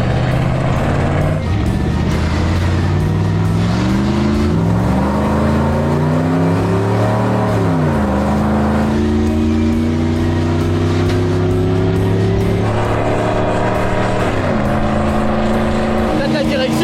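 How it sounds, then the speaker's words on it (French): A car loaded with 100 tonnes strains to accelerate, its engine droning loud and near as it climbs through several gear changes, with voices talking over it. "On va tenter une accélération"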